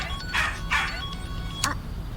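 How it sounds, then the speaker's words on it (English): A newly rescued dog barks a few times in the background of a phone call, with bursts muffled and moderately loud over a low room hum. "A friend calls, and then she's got her dog there barking."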